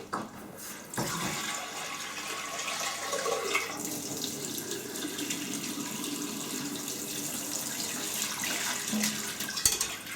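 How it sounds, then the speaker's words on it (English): Hot water gushing steadily from a tap into a pan, a continuous close rushing splash that shifts in tone as it fills, with no voices. "taking it to the tap, running some hot water into it"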